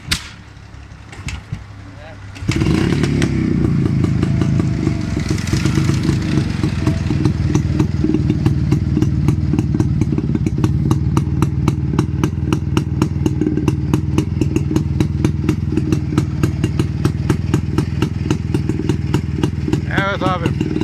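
A restored 1976 Jawa motorcycle starts up and runs near the listener, settling into a steady, loud, rhythmic two-stroke putter that carries on for most of the stretch while people talk nearby.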